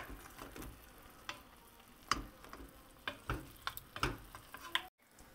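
Chicken drumsticks and wings frying in a pan, a quiet background sizzle broken by scattered sharp pops and crackles, close and irregular, with a brief silence near the end.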